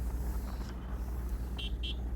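A motorbike ride along a road gives a steady, dense low rumble and wind roar throughout, with two short high beeps near the end and no talking.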